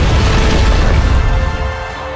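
A magic potion bomb blast in the Cookie Run: Kingdom video game, one loud, deep booming explosion that rumbles and slowly fades over about two seconds.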